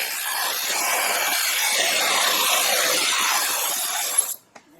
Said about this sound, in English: with the correct size drill, I'm just going to drill this thing oversized as straight as possible